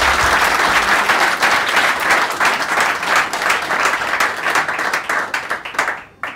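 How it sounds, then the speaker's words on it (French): Conference audience breaks into sustained applause, loud, dense clapping from many people that holds steady before cutting off abruptly near the end. "Est-ce qu'on peut applaudir pour Albert,"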